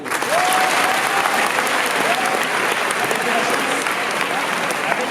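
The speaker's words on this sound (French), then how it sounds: "Applaudissements." Sustained, dense applause from a convention audience at a manga-festival panel talk, loud and steady throughout, with faint voices calling out beneath the clapping.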